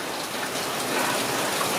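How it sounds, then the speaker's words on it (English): Steady rain falls at an outdoor event setup as storm clouds move in, an even, dense hiss of drops hitting surfaces close by, with no talking. "All right, it's raining."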